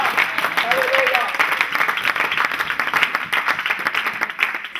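A church congregation applauds and cheers, dense sustained clapping from a crowd with voices mixed in throughout.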